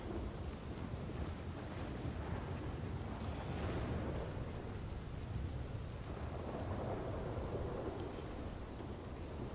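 Heavy downpour and thunder in a western role-play game, dense steady rain hiss with rolling thunder rumbles swelling and fading across the clip, no talk.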